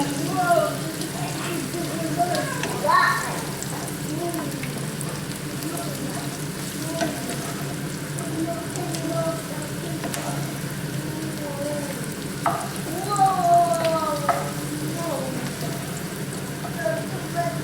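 Onions frying in a pan with ginger about to be added, a continuous soft sizzle with scattered crackles, heard close under a person speaking at moderate level.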